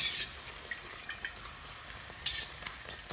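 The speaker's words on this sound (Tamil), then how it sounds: "இன்னொன்று ஃப்ரை பண்ணி பார்க்குறேன்" Flatbread dough frying in hot oil, a steady soft sizzle and crackle running throughout, with a few brief louder bursts of spitting near the start and middle, moderately close.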